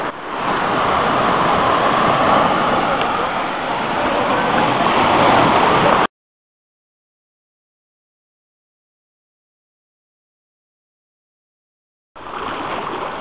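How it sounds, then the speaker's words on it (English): Ocean waves breaking on the shore off Lanikai Beach near the Mokulua Islands, Hawaii: loud, steady roaring surf with wind, cutting to silence midway, then returning briefly. "this is where some of the waves break on the shore"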